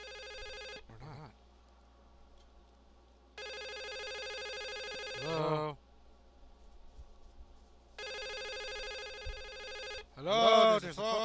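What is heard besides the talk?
telephone ringing in a video game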